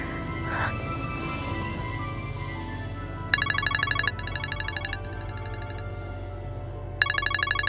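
A phone ringtone plays in repeated bursts of bright electronic trills, with a pause and then another burst, over a low background hum.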